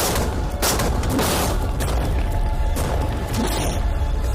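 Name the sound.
tanks firing rapid cannon fire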